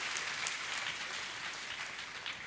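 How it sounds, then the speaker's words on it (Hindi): Audience applause at a motivational talk, a steady wash of clapping from a crowd that runs evenly through the short moment without a clear start or end. "उसके लिए फिर से एक बार जोरदार तालियां बजा दीजिए"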